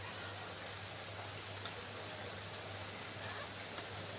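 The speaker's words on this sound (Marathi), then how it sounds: "पाऊस नाही थांबत आहे सकाळपासून." Steady rain falling continuously, an even broad hiss with faint scattered drop taps and a low hum underneath, no voices.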